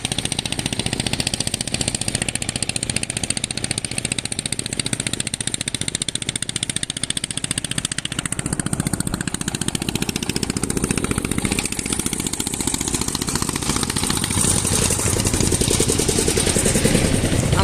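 Engine of a cargo trawler loaded with bricks chugs steadily at close range, a continuous droning motor that holds an even pace for the whole stretch with no voices.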